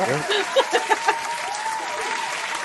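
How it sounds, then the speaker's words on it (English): Men in a studio audience applauding, a dense burst of clapping that carries through the whole moment, while a few voices speak and laugh over it. "That's the guys applauding while the women."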